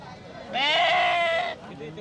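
A single sheep at the Sangola sheep market gives one clear, nasal bleat lasting about a second, close and loud against a low background murmur.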